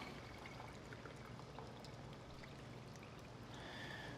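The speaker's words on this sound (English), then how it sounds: "I'm gonna bring a fat separator in here and I'm gonna pour all this jus in here." Brisket jus made with butter and stock is poured into a fat separator, a steady, faint liquid stream and trickle under low background hiss that runs unbroken for about four seconds, with no voices.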